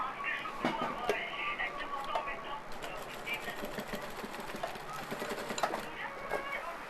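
A sewing machine hums continuously and close by while stitching a shirt sleeve placket. Someone talks over it the whole time.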